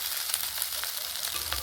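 Pasta being stirred and mixed in a hot wok, giving a steady soft sizzle with faint scraping from the utensil, with no talking.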